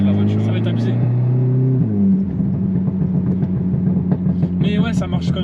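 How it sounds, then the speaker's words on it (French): A Stage 1 tuned Audi S3 8V with roughly 405 hp accelerates, its turbo engine droning and rising in steady harmonic tones with a shift partway through, while people talk over it. "elle fait déjà un gros bruit de turbo avec le kata"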